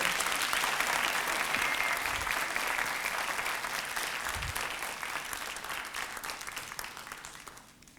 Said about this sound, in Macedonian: Ке ве замолам еден аплауз за сите.